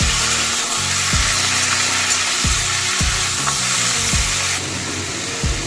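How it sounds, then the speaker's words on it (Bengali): Sliced potatoes go into hot oil with a dried red chilli over a low gas flame, setting off a steady loud sizzle and fry, with repeated clatters of stirring and scraping throughout. "গ্যাসের ফ্লেমটা লো করে নিয়ে এবার আমরা এতে অ্যাড করে দেব ধীরে ধীরে করে কেটে রাখা আলু"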